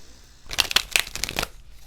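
A deck of tarot cards being shuffled by hand, a quick burst of crisp riffling flicks lasting about a second, close and clear with no talk over it.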